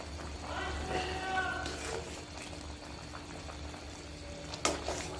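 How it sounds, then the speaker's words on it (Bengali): Fish curry with green banana simmering in a reducing broth, a steady low bubbling that carries through the clip, with a sharp clink of the pot near the end. "ঝোলটা কিন্তু অনেকটাই টেনে গেছে, আর বেশি টানাবো না। মাছগুলো আমি দিয়ে দিলাম।"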